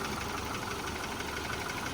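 A Subaru car engine idles with a steady, even drone and a faint rapid patter throughout, unchanging and uninterrupted.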